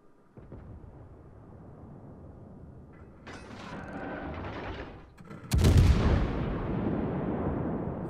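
USS Alaska cruiser firing high-explosive shells in World of Warships: mechanical turret rumble builds, then a loud booming salvo with a long rolling decay, no voices.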